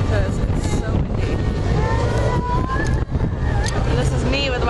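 Strong wind buffets the microphone steadily on the open deck of a cruise ship at sea, a loud continuous roar with someone talking over it.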